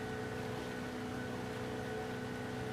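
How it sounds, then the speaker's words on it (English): Steady, droning boat engine hum from Farming Simulator 25 in a Highlands fishing setting, a constant straining tone with a strong low rumble that carries on without a break and with no talk over it. "that engine noise is just way too annoying"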